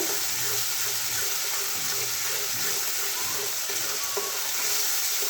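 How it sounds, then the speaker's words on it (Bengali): Masala with sour yogurt for a Bengali-style pepper fish curry stirred slowly in a pan over a medium gas flame, a steady close sizzle and frying hiss with soft scraping, no voices. "এটা আস্তে আস্তে এভাবে নাড়িয়ে নেব।"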